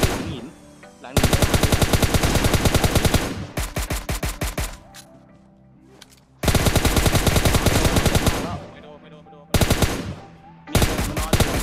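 Bursts of rapid automatic gunfire from the mobile battle royale game PUBG Mobile, loud and close, firing in several sustained volleys separated by short quieter gaps.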